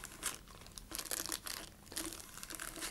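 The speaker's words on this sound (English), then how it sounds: "Then you're going to take a plastic bag and wipe it down." Plastic bag crinkling while wiping down a model rocket tube, giving soft close rustling and crackling in uneven bursts, quiet and without talk.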